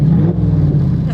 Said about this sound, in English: You can really hear that rump and that naturally aspirated motor scream with the exhaust.